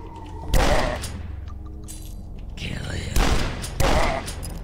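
Shotgun blasts from the video game Dusk, loud and close: a single booming shot followed a few seconds later by a quick back-to-back pair, each with a short crashing tail.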